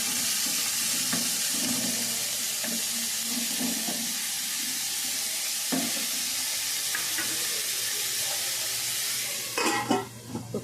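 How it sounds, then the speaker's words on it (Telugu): Sliced onions with a pinch of salt fry in a pan, giving a steady close sizzle broken by scraping stirs throughout, with a louder clatter near the end and no talking. "ఉల్లిపాయ తొందరగా వేగిద్ది అన్నమాట."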